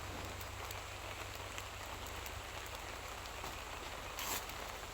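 Steady rain falls on a farm field, a faint, even hiss of drops on surfaces with occasional louder patters and no voices.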